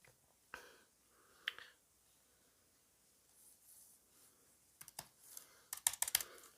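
Typing on a Lenovo Yoga 9i laptop keyboard with an aluminium body, soft scattered key taps early on, then a quicker cluster of crisp clicks near the end, close and fairly quiet.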